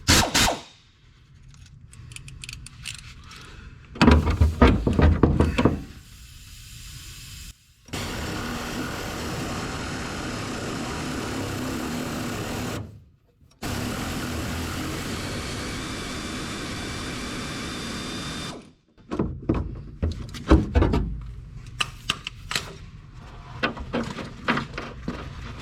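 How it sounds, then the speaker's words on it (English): An air ratchet works a stubborn shackle nut on a Chevrolet Silverado or GMC Sierra truck, giving long steady pneumatic whirring runs of several seconds each, with short clattering bursts and brief pauses between them, loud and close. "I'm actually going to try to remove that nut with this air ratchet"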